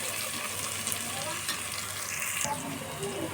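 Spices and salt frying in a hot pan for khichdi, with a steady close sizzle and occasional stirring scrapes running throughout.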